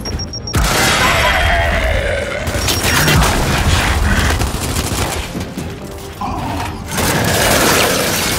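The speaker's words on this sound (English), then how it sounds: "Throwing grenade!" A grenade is thrown and explodes amid sustained gunfire in the video game Gears 5 on Xbox Series X, with loud booming blasts and dense battle noise running throughout.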